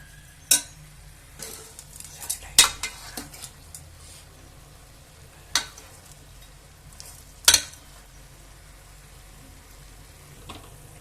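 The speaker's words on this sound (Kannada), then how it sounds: "ಮತ್ತೆ ಈ ರೀತಿ ನೀವು ಮಧ್ಯದಲ್ಲಿ ಈ ರೀತಿ ಮಿಕ್ಸ್ ಮಾಡ್ಕೊಂಡು ತಡ ಹಚ್ಚೋದಂಗೆ ಫ್ರೈ ಮಾಡ್ಕೊಂತಿರ್ಬೇಕು." Village-style country chicken fries in a pan and is stirred, giving a faint, steady sizzle broken by occasional sharp clinks and scrapes of a spoon against the pan.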